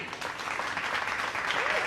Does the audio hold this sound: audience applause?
yes